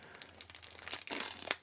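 A small packet of adhesive crinkles and rustles in the hands among the contents of an RV back-up camera kit, brief, close and crisp, with no talk over it.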